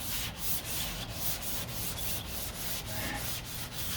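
Hand sanding scrapes across the fiberglass of a 1969 Corvette C3 passenger door in a close, rhythmic back-and-forth, with roughly a dozen even strokes at a steady pace.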